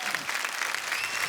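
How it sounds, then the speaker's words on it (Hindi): Studio audience applause rings out steadily at a Hindi comedy show, dense clapping filling the short moment without a break. "प्लीज एक बार अर्चना जी के लिए जोरदार तालियां।"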